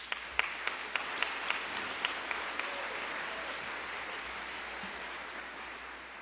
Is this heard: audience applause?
yes